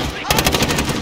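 Bruen MK9 machine gun fires in a video game match against bots, a sustained rapid automatic burst with evenly spaced loud shots kicking in after a brief lead-in.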